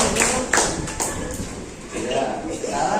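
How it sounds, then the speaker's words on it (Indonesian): A seventh-grade classroom breaks into brief clapping after a group presentation, scattered hand claps close by mixed with shuffling and voices. "Sangat bagus ya, tepuk tangan."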